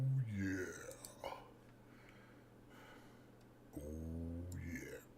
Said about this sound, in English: Burp burp.